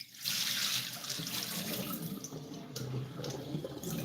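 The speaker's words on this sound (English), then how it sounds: "you could drain off the water like so" Water runs and splashes steadily into a kitchen sink as it drains off raw chicken breast being prepared for curry, a continuous close rushing flow lasting a few seconds with no voices.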